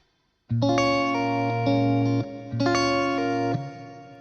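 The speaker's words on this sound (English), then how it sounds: "Maybe I should remove a little bit of my reverb here." Acoustic fingerstyle guitar plays the intro of a song, sustained chords and a quick rake ringing out under heavy reverb in two long phrases with a brief gap between.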